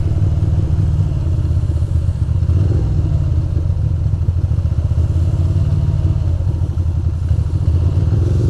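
A Ducati motorcycle on a foggy, rainy ride through Manhattan and Queens city streets drones steadily up close, its rough, clattering engine rumble holding fairly even with slight surges, as if it's not revving cleanly.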